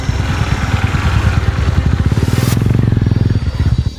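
Motorcycles on a touring ride in Vietnam, with a loud, close engine drone of rapid, steady firing pulses that rise slightly in pitch as they rev, and wind rushing over it.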